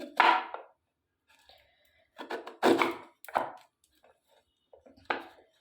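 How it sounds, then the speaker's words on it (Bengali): A knife chops guava into small pieces on a cutting board, a few separate close thunks with pauses between them and no talk. "আর একটাও যে পেয়ারা আছে আমি সেটাও এইভাবেই কেটে নেব দেখুন"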